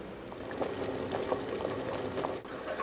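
Vegan chili bubbling gently in a crock pot, a soft continuous simmer with faint pops and small liquid blips, steady and close, with no voices.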